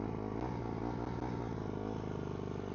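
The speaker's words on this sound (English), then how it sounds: "Gonna put my visor down because this bike's kind of loud." A 2008 Honda CRF150R carbureted dirt bike engine runs steadily up close, a loud, even, throbbing idle with a rattly mechanical clatter and no speech.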